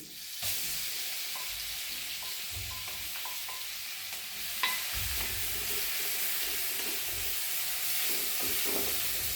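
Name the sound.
ground coconut-garlic masala paste sautéing in a pan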